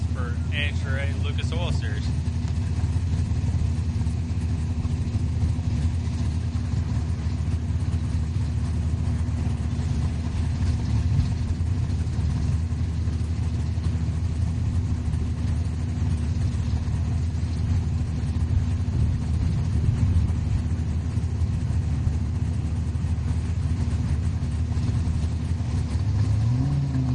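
A 1969 Camaro drag car at a Kansas drag strip during Hot Rod Drag Week idles and rumbles with a deep, lopey engine drone throughout, with an announcer talking over it.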